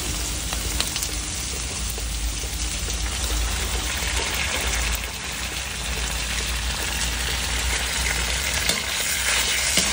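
Chopsuey stir-frying in a pan after oyster sauce goes in, a steady loud sizzle with continuous scraping and stirring throughout, close and with no talking.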